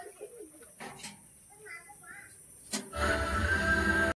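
Pigeons of the black abluk type, in a breeding and sale setting, give soft low coos at moderate distance, with a few sharp knocks, and a louder burst of rustling noise toward the end.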